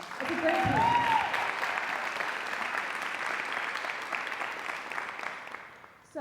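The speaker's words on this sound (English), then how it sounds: "let's give them another round of applause" An audience applauds a women's chamber ensemble at a music symposium, sustained clapping that fills the room and slowly thins toward the end, with a brief voice and a sliding tone near the start.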